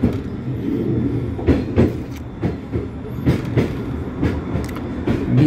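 A metro train rolls across the Dnipro river bridge with a steady rumble, rhythmic clickety-clack of wheels over rail joints recurring every second or so, loud and close throughout.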